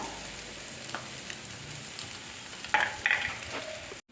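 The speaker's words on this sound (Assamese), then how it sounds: "এতিয়া ইয়াতে অকণ নিমখ দি পেলাই মই ভাজি থাকিম" Fish oil frying with a pinch of salt in a pan for an Assamese sour fish curry, a steady close sizzle with a few scraping stirs and two brief louder crackles toward the end.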